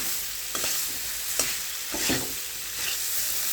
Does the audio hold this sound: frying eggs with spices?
yes